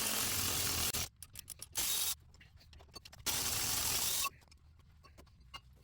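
A tool working the two hex bolts on a 2021 Peugeot 2008 front brake caliper mounting bracket, with long loud whirring bursts alternating with quieter stretches of ratcheting clicks, close up with no talk.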